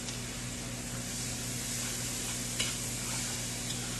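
Garlic sizzling with sautéed vegetables in a pan for Southern red beans and rice, a steady hiss of frying with occasional stirring scrapes and a steady low hum underneath, no voices.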